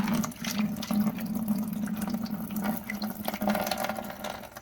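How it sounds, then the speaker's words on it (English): Water pours steadily into a bucket during an aquarium water change for breeding sterbai corydoras, a continuous close splashing gush with no talking. "All I did is I'd pour the water into this bucket."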